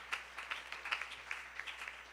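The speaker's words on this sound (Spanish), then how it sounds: "Un aplauso para Él, aleluya" A church congregation claps during a worship service, a faint, steady run of sharp claps that pulse in a loose rhythm, heard alone without speech.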